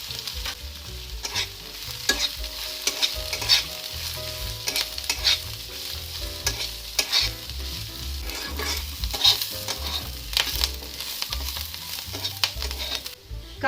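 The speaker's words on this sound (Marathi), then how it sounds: "आता आपण कांदा भाजून घेणार आहोत" Onion and garlic frying and being stirred in a pan, a steady close sizzle broken by repeated scraping stirs, with no voices over it.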